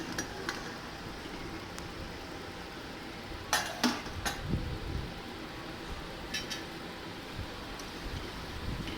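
Lid lifted off a pot of simmering Muslim-style mutton kulambu, a brief cluster of metallic clinks and scrapes near the middle, close and fairly quiet over a steady low kitchen hum.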